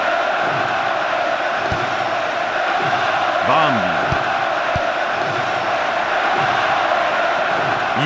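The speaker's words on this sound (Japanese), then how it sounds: "すごい歓声です。" Stadium crowd cheering in the Winning Eleven 5 soccer video game, England versus Germany, a dense continuous roar with chants and whoops rising and falling, while a commentator speaks over it.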